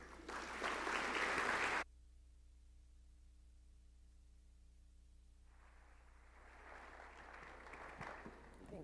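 A conference audience claps to welcome keynote speaker Gabriele Oettingen. A burst of clapping stops abruptly and leaves a quiet hum, then the applause resumes and continues at a moderate level.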